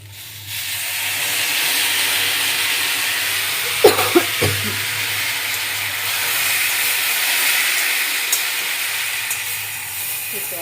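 Water poured into hot, well-fried spice paste in a pan for a Bengali fish chorchori, giving a steady loud sizzling hiss with a few sharp crackles partway through and no talking.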